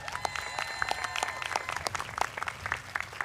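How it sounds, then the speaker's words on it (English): A university commencement audience applauds at a graduation ceremony, a steady rattle of many hands, fairly distant and moderate in level, with no talk over it. "Please, a round of applause."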